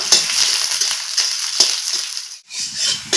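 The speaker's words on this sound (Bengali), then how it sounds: "তেলে আমি দিয়ে দেবো পেঁয়াজ কুচি পেঁয়াজটা লাল করে ভেজে নেবো" Chopped onion fries in hot oil in a wok, giving a loud, steady broadband sizzle with intermittent stirring scrapes and a brief dip in the hiss near the end.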